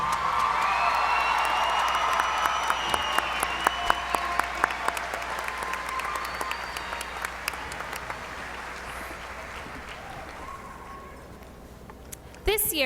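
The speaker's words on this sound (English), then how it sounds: "Let's give them a round of applause." A graduation audience applauds the class of 2019 scholarship recipients, dense clapping from a large crowd filling the hall steadily, then thinning and fading toward the end with a few scattered claps.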